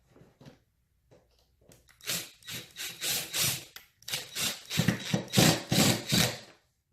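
An H5 screw is tightened during furniture assembly, making a run of short, rhythmic rasping and grinding strokes that grow louder and closer after a few faint ticks.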